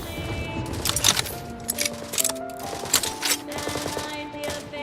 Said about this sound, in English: No grenades being thrown at me. No, I'm being shot.